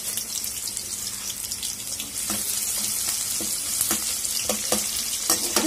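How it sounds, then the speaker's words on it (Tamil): Onions sizzle and crackle steadily in a hot pan, with occasional clicks and scrapes of stirring over the constant frying hiss. "இந்த வெங்காயத்தை நம்ம கொஞ்சம் கருகு விடக்கூடாது, கொஞ்சம் நல்லா வதக்கணும்."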